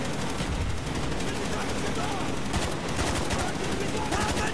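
Rapid automatic gunfire bursts and shots in Call of Duty: Black Ops, dense and loud throughout with chattering machine-gun rhythms, with voices underneath.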